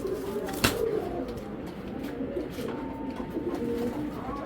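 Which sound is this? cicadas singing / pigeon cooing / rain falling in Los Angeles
pigeon cooing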